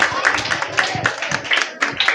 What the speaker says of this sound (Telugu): మరి వాళ్ళు ముందుకు వస్తే వాళ్ళని చప్పట్లు ఆహ్వానిద్దాం